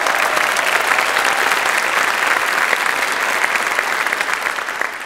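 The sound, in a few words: audience applause for the choir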